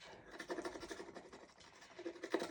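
A coin or card edge rasps across the foil of a scratch card in close, continuous scratchy strokes over about two seconds, with no talking.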